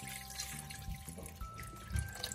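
Water is poured over meat in a pot while making Brazilian feijoada, a soft continuous splashing and trickling close by with a few louder gurgles, and no talking.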